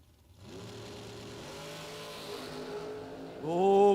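A Ford Mustang drag car at a bracket race roars steadily with a continuous engine drone, building to a louder, higher-pitched rev at the very end.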